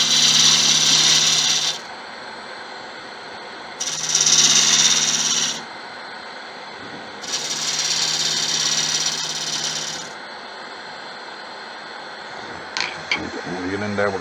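Wooden candle stand for a 5 1/2 inch wide candle being turned on a lathe, with three sustained hissing bursts of the tool cutting, separated by a quieter motor hum, ending in a few clunks.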